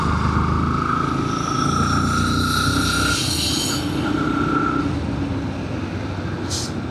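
A motorcycle on wide aftermarket tyres rides steadily along in Purulia, its engine droning loud and continuous with a sustained whine and road rush throughout.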